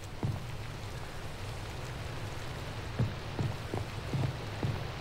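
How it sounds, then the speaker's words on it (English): Steady rain hisses evenly throughout in Minecraft, with a few louder drips and patters scattered over it and no voices. "And it's raining."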